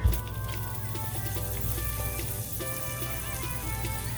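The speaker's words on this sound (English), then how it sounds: "See the sizzle?" Butter sizzles steadily in a very hot pan, a dense, crackling hiss with scattered pops that holds at an even, close level throughout, with no talking.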